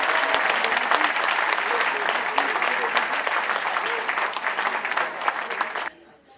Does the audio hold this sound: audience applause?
yes